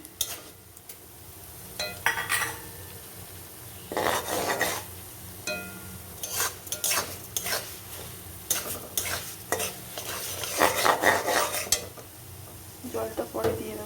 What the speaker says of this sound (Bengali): একটু ভালো করে লাল লাল করে ভেজে নেব ডালটাকে